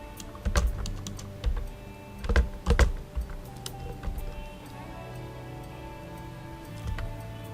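Computer keyboard typing while code is written, irregular clusters of clicky keystrokes with a few louder taps, close by, thinning out toward the end.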